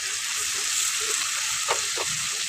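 Chicken pieces with tomatoes sautéing in a hot pan give a steady, close frying sizzle, with a couple of brief stirring scrapes near the end and no talking.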